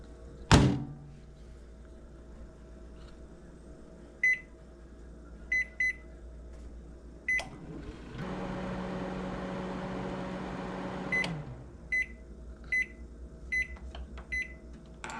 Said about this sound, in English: I'll place them in the microwave for about 3 minutes.